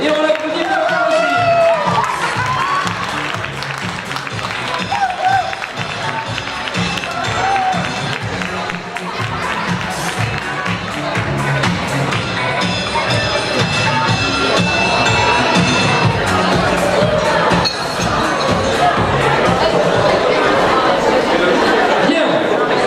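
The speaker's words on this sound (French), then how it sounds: "Et on l'applaudit bien fort aussi." An audience at a 2019 festival queen pageant claps and cheers for a candidate, a steady wash of applause mixed with crowd chatter and a presenter speaking over it.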